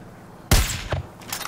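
One loud close gunshot blasts in the Far Cry 5 video game, a sharp boom with a short echoing tail, followed by fainter game sounds.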